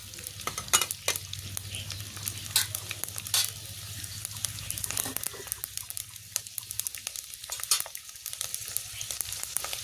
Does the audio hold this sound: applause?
no